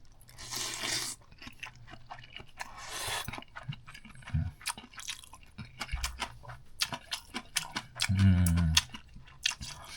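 Close-up chewing of a bite of fish cake ramen, with wet crunches and squishy mouth sounds in an irregular rhythm, fairly quiet and without talk.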